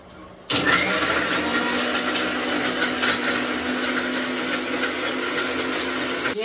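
A kitchen mixer grinder switches on abruptly and grinds pounded coconut, a loud, steady whirring motor drone that holds unbroken to the end.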